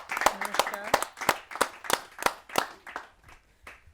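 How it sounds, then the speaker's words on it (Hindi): An audience at a Hindi poetry gathering claps to welcome a senior woman poet from Ghaziabad, a run of close, rhythmic hand claps that thin out and fade after a few seconds. "जोरदार तालियों से मैं आमंत्रित करता हूं गाजियाबाद से पधारी हुई बहुत ही वरिष्ठ कवयित्री जिनका नाम होता है अंजू जैन"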